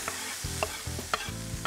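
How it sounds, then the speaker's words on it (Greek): Onion and garlic fry in the same pan just used for pancetta, giving a steady close sizzle with a few stirring scrapes, and no one speaking. "στο ίδιο τηγάνι που έψα τις πανσέτες θα κάνω την barbecue. Οπότε, ρίχνω μέσα κρεμμύδι σκόρδο"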